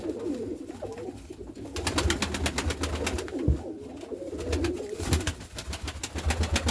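Several pigeons cooing in soft, low, repeated calls, with a rhythmic clicking or flapping texture running through, fairly close.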